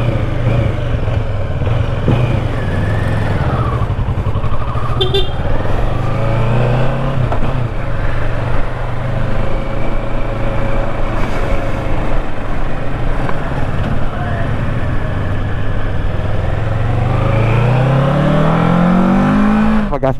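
Kawasaki Versys 650 motorcycle engine heard close up, droning steadily with rising revs as it accelerates through gears, loud throughout with wind noise.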